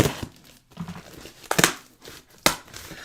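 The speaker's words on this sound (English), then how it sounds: "we can open it up with my little safety scissors" A package box is opened with small safety scissors: close crinkling, scraping and tearing of cardboard and tape, with a few sharp louder snips and rips between quieter rustles.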